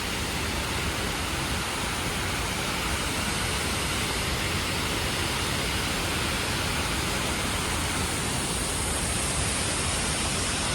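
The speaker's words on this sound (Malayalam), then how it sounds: "ഒരു ചെറിയ ഫ്ലോയിൽ പോകുന്നുണ്ട് വെള്ളം" Water pours steadily through four partly opened shutters of Neyyar dam in a small flow, a dense, continuous rushing roar that stays loud and unchanged throughout, with no voices.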